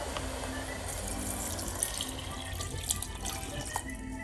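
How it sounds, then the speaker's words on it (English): Water pours into a pot of Mediterranean bean soup with zucchini and beans, a steady splashing gush that runs unbroken from start to finish. "And then we can add our water."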